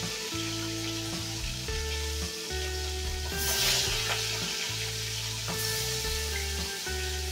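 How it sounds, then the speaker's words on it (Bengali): Bele fish frying in hot oil in a pan gives a continuous, close crackling sizzle that holds steady throughout, with music playing underneath. "এবার বাকিগুলোকে ওইভাবে আমি ভেজে নেব মাছগুলোকে"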